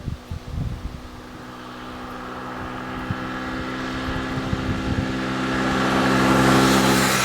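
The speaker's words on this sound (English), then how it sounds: "this is my CBR250R 2013. It's brand new." A 2013 Honda CBR250R motorcycle engine running nearby, a steady low hum with a few early blips that gradually builds toward a louder rev.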